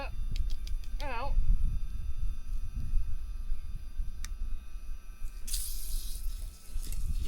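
Water gurgles and flows from an irrigation hose line, steady and close, with a brief hissing spray near the end; a voice speaks briefly early on.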